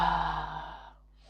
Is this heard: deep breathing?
yes